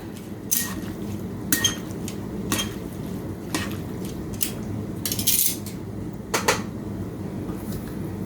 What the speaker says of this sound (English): And we are going to mix this up.